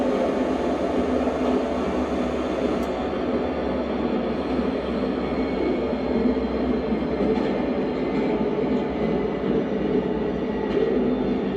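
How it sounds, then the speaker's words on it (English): A London Underground train running in a cab simulator video game: a steady, continuous rumble and rolling drone of wheels and motors, loud and even throughout with faint clicks, and no voices. "you actually feel like it's an underground train"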